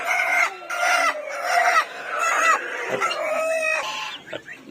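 Chickens, including young hens and chicks penned with rabbits, cluck steadily and close by, with a rooster-like call rising among the overlapping clucks, with no talking.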